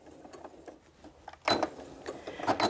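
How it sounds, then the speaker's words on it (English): A sewing machine back-stitching fabric, a quiet ticking run of stitches followed by a louder burst of fast rhythmic needle strokes. "I try to remember to go ahead and back stitch a little bit"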